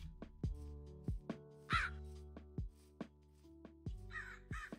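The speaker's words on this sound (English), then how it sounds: "I'm so glad that I discovered I could tame crows." Repeated crow caws from a tamed crow in modded Minecraft, several sharp calls spaced irregularly over a steady game music bed with percussive plucks.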